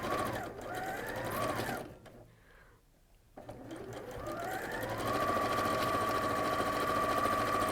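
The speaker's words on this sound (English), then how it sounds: "And we're simply going to sew across that raw edge. I'm on the machine." A sewing machine stitches across a raw fabric edge with a 1/4 inch seam, running in steady bursts that pause briefly and then settle into a continuous, close, even whir.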